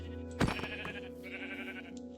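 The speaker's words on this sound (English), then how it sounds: "Look at those sheep." Sheep bleating in the video game Minecraft, one loud wavering bleat near the start followed by a second, softer bleat, over a steady background game tone.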